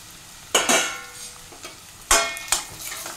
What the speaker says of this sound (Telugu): ఇప్పుడు చామగడ్డ వేసేస్తాను.